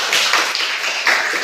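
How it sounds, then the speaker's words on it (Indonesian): A classroom of students clapping together, a dense, bright wash of hands that is loud and close and runs steadily through the whole brief moment, with no pauses. "tepuk tangan buat kalian semua"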